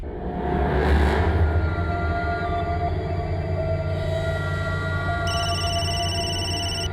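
A phone rings with a repeating electronic tone late in the clip, heard over a steady low rumble of engine-like noise.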